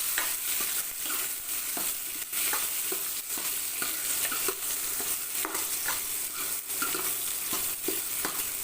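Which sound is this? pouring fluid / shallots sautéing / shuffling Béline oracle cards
shallots sautéing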